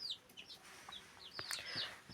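Old hens in a backyard flock cluck and squawk softly, a scatter of short, bright calls close by and fairly quiet, with no talking.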